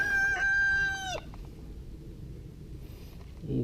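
A close chicken gives a loud, drawn-out tonal call for about a second, then the coop goes quiet apart from faint rustling and a brief soft cluck near the end.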